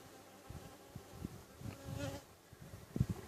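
Honey bees buzz around an open beehive during an inspection. The drone is faint and steady, with a few louder, closer passes.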